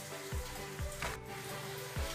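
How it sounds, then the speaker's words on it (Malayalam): Coconut oil heats in a small pan on the stove with a soft, steady sizzle, broken by a few faint low pops and clicks. "അതിലേക്ക് 1 ടേബിൾ സ്പൂൺ വെളിച്ചെണ്ണ ഒഴിച്ചു കൊടുക്കുക."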